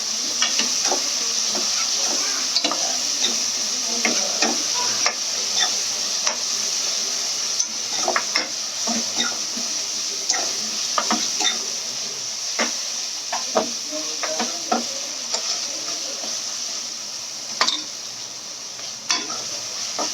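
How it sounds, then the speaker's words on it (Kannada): Masala for chicken biryani fries in a pan on a stove over high heat, a steady close sizzle with frequent scraping clicks from stirring throughout, and no talking. "ಇವಾಗ ಸ್ವಲ್ಪ ಜೋರು ಮಾಡ್ಕೊಂಡಿದ್ದೀನಿ ನಾನು ಸ್ಟವ್ನ ಆ್ಯಂಡ್ ಫ್ರೈ ಮಾಡ್ಕೊತಾ ಇದ್ದೀನಿ"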